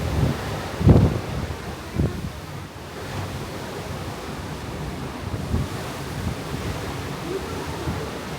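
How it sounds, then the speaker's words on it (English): Gusty wind buffets the microphone outdoors on the deck of the Disney Dream cruise ship in cold, rainy weather, with a few louder rumbling bursts over a constant airy hiss. "It's a little windy, a little cold, a little rainy"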